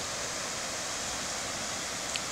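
Steady broadband rush of a waterfall on the Mucegezinho river in Chapada Diamantina, a constant even roar at moderate distance with no voices.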